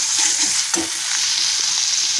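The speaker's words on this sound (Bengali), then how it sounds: "ভালো করে নেড়ে চেড়ে নেবো পোস্তটা কাঁচা গন্ধ যাওয়া অবধি।" Poppy seed paste stirred and fried in a pan for a Bengali rui posto fish dish, a steady close sizzle with soft scraping strokes and one sharper clack near the middle.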